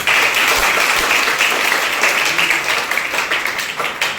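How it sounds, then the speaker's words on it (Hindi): An audience at a motivational talk claps loudly for itself, a thick, sustained wash of many hands that stays strong and close throughout with only slight dips. "एक बार जबरदस्त ताली आप अपने लिए मार दो।"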